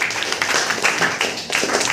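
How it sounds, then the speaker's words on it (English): An audience at an inter-class school debate competition on tourism and the environment applauds a question: a steady wash of many hands clapping together, fairly close and sustained throughout. "Clapping for this question."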